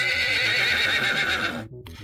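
A horse sound effect gives one loud, shrill neigh with a quavering whinny that cuts off abruptly, heard alone and close.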